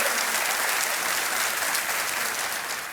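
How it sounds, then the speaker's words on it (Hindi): A studio audience on the Kaun Banega Crorepati game show set gives a warm round of applause, dense even clapping filling the room for a few seconds and slowly fading. "तालियों के साथ एक बार इनका फिर से स्वागत किया जाए।"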